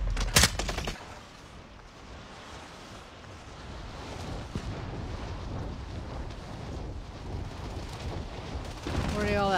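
Gunfire in an online shooter game on the Alcatraz map, a few sharp bursts up front then muffled rumbling and scattered shots under a player's voice, with another burst near the end.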